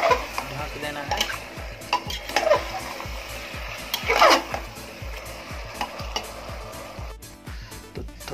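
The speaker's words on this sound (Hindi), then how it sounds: "थोड़ा देखते हैं कैसा है मटन, और इसे चला कर भी देखते हैं" Mutton curry with masala is stirred in a pot, with repeated scraping and clinking strokes of a spoon over a soft sizzle, the stirring coming in uneven bursts throughout.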